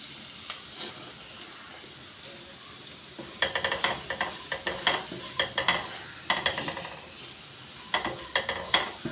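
Jackfruit seeds roasting with salt in a pan, a quiet hiss broken by bursts of scraping, rattling stir strokes that grow denser in the second half, close and without speech.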